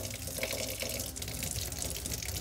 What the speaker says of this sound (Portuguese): Toda vez que a gente utilizar o refratômetro, devemos limpá-lo. E como se limpa? Simples. Na água,